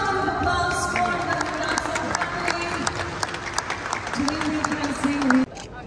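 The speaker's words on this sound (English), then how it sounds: "One more round of applause for the" Applause from a crowd of onlookers at a celebrity appearance beside a Bentley, steady clapping and cheering under camera clicks and a voice calling out.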